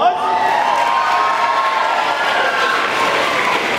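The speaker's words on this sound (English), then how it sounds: "Give yourselves a big round of applause." A large group of school students at a school assembly applauds and cheers loudly, a sustained roar of whoops, shouts and clapping that fills the hall without a break.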